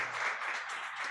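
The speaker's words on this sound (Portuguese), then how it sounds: "Eu queria pedir uma salva de palmas para o professor" An audience at a talk on governance of industrial disasters gives a professor a short burst of applause, dense steady clapping with no voices over it.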